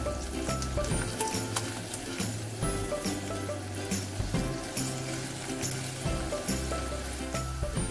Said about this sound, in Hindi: प्याज को जो है हमने इतना कुक करना है कि ये हल्की ब्राउन हो जाए।